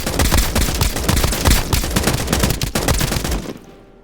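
A gun in the video game Escape from Duckov fires rapid short bursts of automatic shots, loud and close, clattering steadily for about three and a half seconds before cutting off into a brief fading tail.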